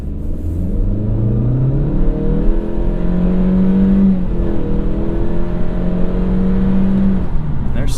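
A 2016 Honda Civic Touring engine with a CVT pulls hard under acceleration, a loud, steady drone rising gradually in pitch for several seconds with no gear shifts.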